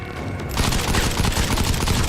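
Gunfire in the Modern Combat 5 video game, which begins after a brief quieter moment and becomes a dense, loud, sustained fusillade of rapid overlapping shots that lasts to the end.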